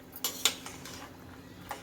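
A spoon scrapes and clinks against a pot while rice for chicken dum biryani is stirred, with a few sharp metallic knocks and softer scrapes over a quiet background.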